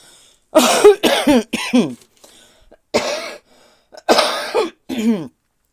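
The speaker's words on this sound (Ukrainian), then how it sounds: "мене цей кашель ніяк не покидає" A series of harsh, close coughs in bursts, several in quick succession, then a pause and more coughing with throat clearing.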